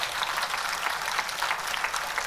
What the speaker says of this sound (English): Let's give a big round of applause once again